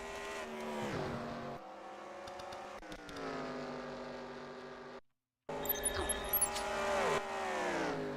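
Race car engines in the NASCAR Racing 2003 video game, a Cup race at Charlotte, drone steadily with shifting pitch, easing off the throttle and rising again, cut by a brief silent gap before resuming loud.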